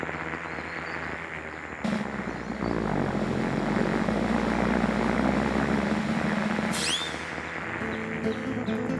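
A propeller plane engine roars up loudly and holds a steady drone, with a brief high whistle near the end.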